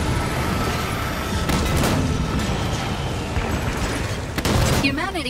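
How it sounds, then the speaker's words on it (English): Mortar fire and explosions in Halo 5 legendary co-op combat against a Phaeton, a dense, loud wash of booming blasts and gunfire running throughout with no break. "Mortars!"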